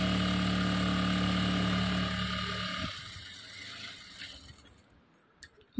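A sewing machine stitching a baby frock runs steadily with a dense mechanical whir, then stops after about three seconds, leaving a few faint clicks and handling sounds nearby.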